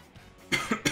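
Three short, sharp coughs from one person burst out in quick succession at close range after a brief quiet lead-in, with nothing else heard.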